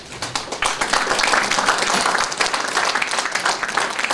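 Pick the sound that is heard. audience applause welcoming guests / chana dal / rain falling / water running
audience applause welcoming guests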